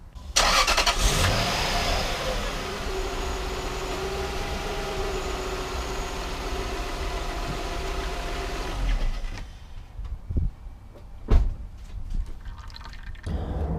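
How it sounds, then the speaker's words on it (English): A car engine starts and runs during an automatic transmission flush, with a steady hum and fluid sounds, then cuts off and leaves a few clanks and knocks. "what I got to do now is start the engine"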